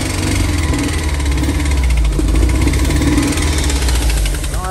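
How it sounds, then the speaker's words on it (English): The engine of a 1987 VW Vanagon Syncro Westfalia, running rough with hesitation and popping, rumbles loudly at close range with a steady throbbing idle and slight revving swells. "We have a throttle pedal that works. She's revving up."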